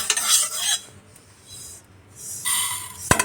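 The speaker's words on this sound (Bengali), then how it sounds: "একটু শুকনো কড়াইতে ড্রাই রোস্ট করে নেব।" Sesame seeds are stirred while dry roasting in a dry wok, giving bursts of close scraping and rattling, a quiet pause in the middle, then a final clack of the utensil.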